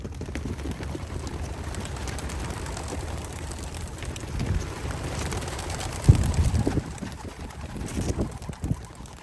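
Racing pigeons released for a first training toss take off, with a quiet, sparse flutter and a burst of wing flapping about midway, against faint wind and ambient outdoor noise.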